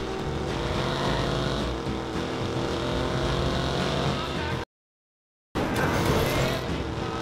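A car engine roars steadily while driving in the video game Watch Dogs, loud and continuous, with a brief cut to silence partway through.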